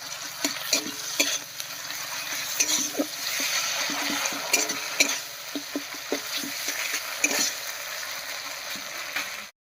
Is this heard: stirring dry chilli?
yes